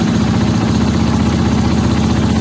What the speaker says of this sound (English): So first we're going to start the bike up.